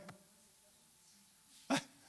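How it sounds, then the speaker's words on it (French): One short, sharp human sneeze bursts out near the end of a quiet stretch, preceded by a faint brief sound at the start. "C'est plus un éternuement."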